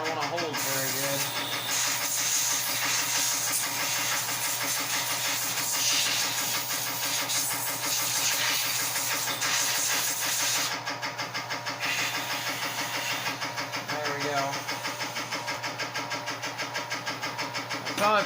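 Compressed air hisses from a blow gun into the parts of a Poulan P3816 chainsaw during cleaning, a loud steady rushing blast that runs on continuously with a brief change partway through, close to the microphone.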